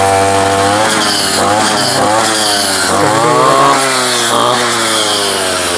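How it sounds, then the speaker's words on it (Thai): A second-hand Makita RBC-411 brush cutter's small two-stroke engine starts and runs loud and close, its buzzing pitch swooping up and down several times as the throttle is blipped. "เดี๋ยวจะมาลองสตาร์ทดูครับ ฟังเสียงดูครับ"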